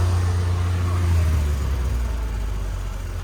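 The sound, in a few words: Daewoo Damas car engine running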